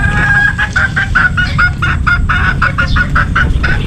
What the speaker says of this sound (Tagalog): Yung mga alaga namin, mga manok